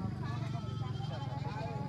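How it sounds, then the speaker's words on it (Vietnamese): Goat bleats at a busy livestock market, the animal's wavering calls rising over crowd chatter and a person talking close by. "anh này có con dê cái này to này"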